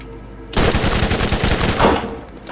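Rapid, continuous SMG fire from Borderlands, a loud burst that starts abruptly and rattles on for about two seconds with no talk.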